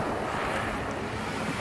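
Sea surf on a beach in Turkey rushes as a steady, loud wash of breaking waves close by, mixed with wind buffeting the microphone, with no voices.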